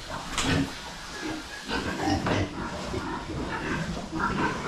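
Several pigs in a farm pen oink and grunt in irregular bursts at close range, some calls rougher and louder than others, with no talk over them.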